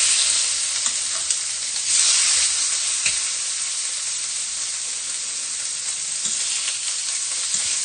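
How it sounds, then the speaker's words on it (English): Meat searing in a hot pan with a garlic clove, butter, salt and pepper, a steady close sizzle and crackle throughout with occasional stirring clinks, no talking. "it's time to sear these bloody buggers."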